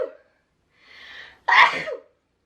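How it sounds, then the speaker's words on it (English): A single sharp sneeze with a quick inhale before it, close and loud, followed by a short breathy exhale. "I just sneezed"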